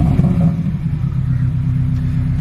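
A 2017 Porsche 718 Cayman engine runs with a loud, low, steady rumble close by. A slight surge comes near the start, and no one speaks.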